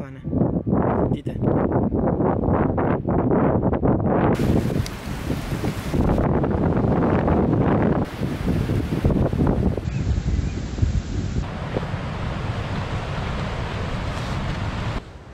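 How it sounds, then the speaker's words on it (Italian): Strong wind gusts roar and buffet the microphone in waves, loud and close, with bursts of broadband rushing noise throughout, on the Spoleto–Norcia cycle path. "ci sono delle folate esagerate, anche qui dietro l'albero non riesco a riparmi più di tanto"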